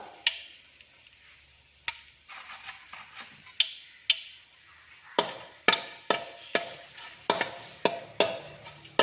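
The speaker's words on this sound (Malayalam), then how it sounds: "അപ്പോൾ നമുക്ക് വറ്റൽ മുളക് കൊണ്ട് ചേർത്ത് കൊടുക്കാം." Dried red chillies hit hot oil where mustard seeds have already popped, for a spicy village-style pappad stir fry; sharp, irregular crackles and spits sound close by, growing denser and louder in the second half.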